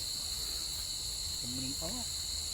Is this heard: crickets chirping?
yes